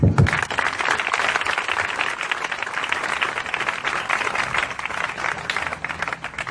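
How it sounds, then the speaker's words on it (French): Congregation at a prophetic crusade gathering in Ebolowa applauding, a dense, steady wash of clapping that runs throughout, fairly loud and close, with a few voices mixed in. "Acclame pour Jésus"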